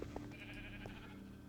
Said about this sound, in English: come on, back off, sheep.